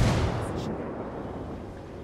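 A grenade blast in the shooter game Ghost War, a loud booming burst at the start that rolls off into a decaying rumble and fades over the following two seconds.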